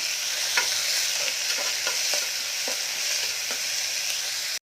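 Chopped onions sizzle loudly in hot oil in a pan for a mushroom biryani, with a spatula scraping and stirring in irregular strokes close by, and no voices present.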